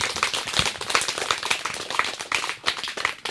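Audience applause at a school event in Tanzania where equipment is donated to government schools: dense, steady clapping from a crowd, fairly loud and continuous throughout, with no talk over it.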